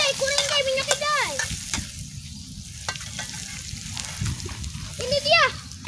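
Squid, still holding its ink, is stir-fried in oil and sizzles steadily and loudly throughout, with occasional stirring scrapes. Adults and someone talk over the frying.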